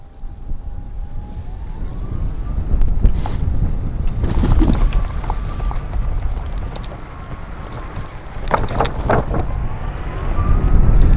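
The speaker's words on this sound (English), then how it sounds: "So you can see these motors went through the grass with no problem." A Quantum Q6 Edge power wheelchair with a 6-inch seat lift drives at full speed across a grassy yard, its motors giving a steady whine over continuous outdoor rumble and wind noise.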